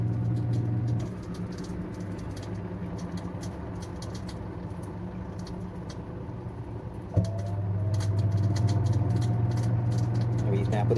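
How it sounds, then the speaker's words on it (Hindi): An Onida fully automatic top-loading washing machine, running empty, whirs through its spin cycle with a steady, close motor hum and drone; the pitch steps up about two-thirds of the way through. "देखिए अभी तक स्पिन हो रहा है, आपको आवाज़ सुनाई दे रहा होगा।"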